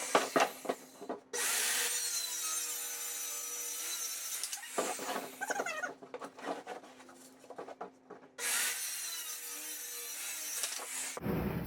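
A power saw cuts wood for DIY rock-climbing volumes. It runs in three loud, close bursts of whining, rasping cutting separated by short pauses, with no talking.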